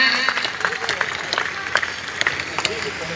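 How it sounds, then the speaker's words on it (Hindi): A crowd claps at an outdoor Atal memorial gathering in Ganeshpur, a loose, uneven patter of hands with sharper individual claps over a low background murmur. "जोरदार तालियों से स्वागत करें।"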